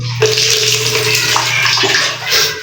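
Water runs steadily from a shower, a continuous close hiss and splash filling a small tiled room.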